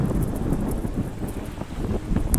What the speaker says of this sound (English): It's pretty windy and I'm cold